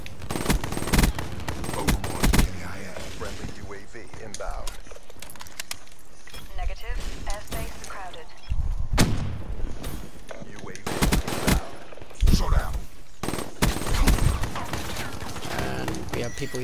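Rapid bursts of M8A7 rifle fire in Black Ops 3 gameplay, loud and repeated in short volleys across the stretch amid other game noise, with someone talking over much of it.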